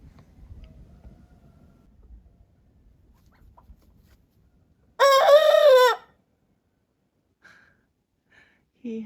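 A single loud cock-a-doodle-doo from a nearby rooster breaks a mostly quiet scene, followed by silence and a couple of faint distant sounds.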